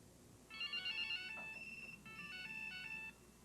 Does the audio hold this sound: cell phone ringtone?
yes